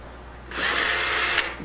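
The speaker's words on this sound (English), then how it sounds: "take your wood bit and drill into your side rail" A power drill with a wood bit whirs into a wooden bed side rail for about a second, a sharp high buzz starting and stopping abruptly, close by.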